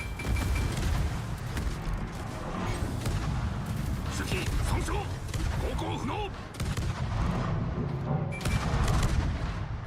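Naval guns boom in a World of Warships ranked battle against an Alaska cruiser, heavy volleys rolling and overlapping into a dense, continuous rumble of shots and blasts that barely lets up across the stretch.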